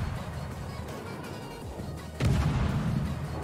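Warship guns firing in World of Warships, aboard the Russian ship Borodino: a low rumbling background, then a heavy, booming salvo about two-thirds through that rolls on loudly to the end.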